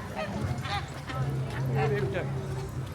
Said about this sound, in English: Oh, and that's a baby duck.